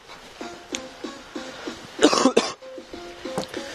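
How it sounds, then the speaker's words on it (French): A person with an illness coughs close by, a burst of two or three harsh coughs and throat clearing in the middle, set between stretches of soft, repeated low tones. "Excusez-moi si je fais que tousser"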